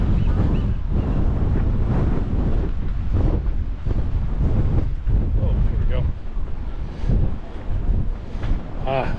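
Strong wind buffets the microphone on Alcatraz Island, with waves surging nearby beneath a loud, continuous roar and no pause.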